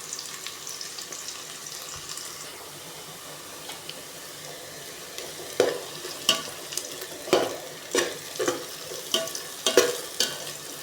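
Onion and garlic fry in a pan with a soft steady sizzle; about halfway through, a utensil begins stirring and scraping in a regular rhythm of close, brisk strokes.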